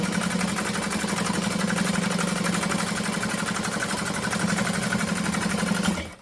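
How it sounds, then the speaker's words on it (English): Sewing machine stitching fabric at stitch length 4 for a handbag: a loud, fast, even mechanical whir with rapid regular ticking, close up and continuous, stopping abruptly just before the end. "I'm going to sew right next to the Decaville Heavy."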